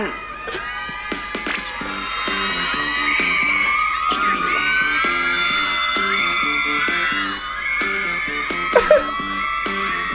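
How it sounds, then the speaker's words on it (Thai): A crowd of fans shrieks and screams continuously in high, excited voices at a reaction event for a Thai series, with a steady music beat underneath and a sharp burst near the end. "แฟนคลับกรี๊ดไปอีก"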